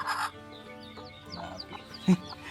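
A bantam hen, mother of newly hatched chicks, gives soft, low clucks, with one louder cluck near the end and fainter chirps and farmyard noise around her.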